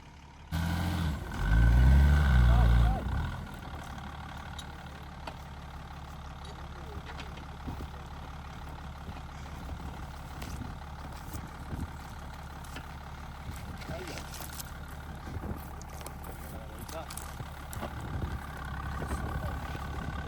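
Off-road vehicle engine idling and rumbling steadily near Chili Lake while another vehicle is winched out, a loud surge of low engine noise early on, then a constant drone with people talking throughout.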